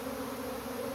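A swarm of honeybees drones in a steady, dense buzz, close and even, with no voices over it.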